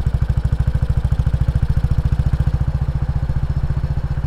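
A BSA B31 single-cylinder motorcycle engine chugs along at low revs, each firing stroke a distinct, evenly spaced thump in a loud, close, steady rhythm.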